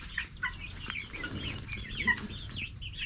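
About 22 chickens crowded in a pen cluck and murmur close by, a busy overlapping chatter of short calls with no talking.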